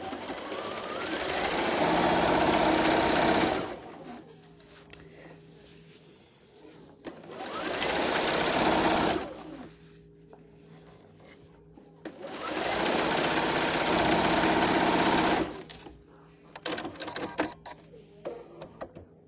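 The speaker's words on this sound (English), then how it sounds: "I'm sewing my last short strip on." A sewing machine stitches the final short fabric strip onto a holiday table runner in three long, steady runs, each a few seconds, with brief pauses and small handling clicks between them, close and loud.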